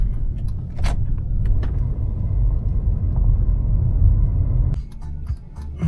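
A taxi driving along a road with a steady loud engine and road rumble, the noise cutting off abruptly near the end before resuming more faintly.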